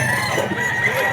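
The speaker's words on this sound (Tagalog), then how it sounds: "Napaka-pogi nitong manok na to." A 21-month-old gray gamecock crows once, near and loud, a sustained crow filling the whole moment.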